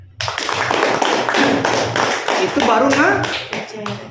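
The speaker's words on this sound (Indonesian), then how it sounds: "Tepuk tangan." Audience at a network business sharing session applauds with steady, dense clapping for about four seconds, loud and close, with a voice briefly audible underneath.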